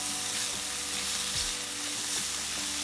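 Salmon and mushrooms are stirred in a frying pan with a steady sizzle, the clatter of a utensil and a few low scrapes rising through the frying. No one speaks.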